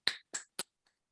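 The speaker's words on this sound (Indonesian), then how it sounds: "Kita tepuk tangan di tempat masing-masing ya." At a wedding anniversary thanksgiving service, guests give three quick, sharp, close claps in an uneven rhythm, followed by near silence.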